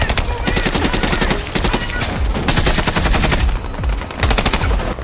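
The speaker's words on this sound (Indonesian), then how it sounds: "Dan baku tembak pun tak dapat dihindarkan lagi." A loud gunfight from the war film Sniper Legacy, with dense rapid machine-gun bursts and sharp rifle shots that crowd together continuously, a brief lull near the end before firing resumes.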